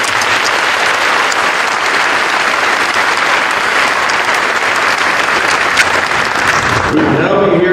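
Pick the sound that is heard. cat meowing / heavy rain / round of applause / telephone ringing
round of applause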